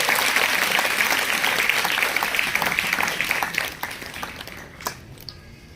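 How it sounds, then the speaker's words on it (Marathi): Audience applause at the opening of a competitive-exam guidance centre, a dense sustained clapping that stays loud for about four seconds and then thins out into a few scattered claps. "टाळ्या वाजत राहिल्या पाहिजे"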